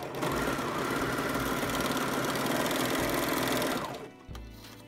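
A sewing machine runs a continuous fast stitching burst along a doll dress shoulder seam, loud and close, then stops abruptly near the end with a brief mechanical clunk.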